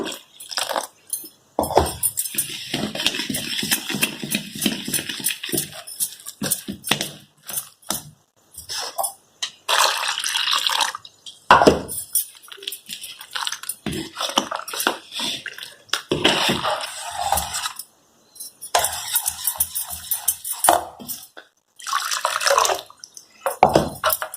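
Water pouring and splashing in irregular bursts with short pauses between, close by and fairly loud, added to a ground rice batter.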